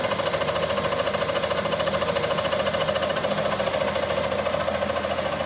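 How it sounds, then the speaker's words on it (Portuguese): A 2009 Honda CG 150 motorcycle engine idles smoothly after a kick start, a steady, even, fast-pulsing mechanical hum that stays constant throughout with no other sounds. "Bati no pedal, a moto já funcionou e olha a maciez desse motor"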